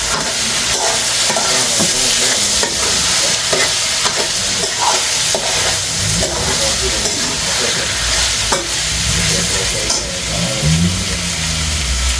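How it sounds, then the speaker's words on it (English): Saltfish frying loudly in a pan for an ackee and saltfish dish, with black pepper being stirred in; a dense, continuous sizzle carries repeated scraping strokes of a spoon at close range, with no speech. "I'm gonna stir in the black pepper now."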